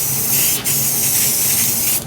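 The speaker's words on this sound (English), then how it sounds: "we're just using cheap, low spray paint" A cheap spray paint can hisses steadily and loudly onto wooden frames, a near-continuous close spray with one short break partway through.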